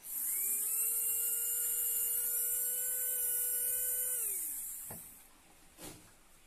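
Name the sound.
small DC motor spinning fast on 3.7 V battery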